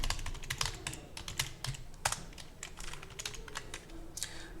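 Brisk typing on a computer keyboard while entering data into an Excel spreadsheet, steady close clicking with occasional heavier key strikes, no voice.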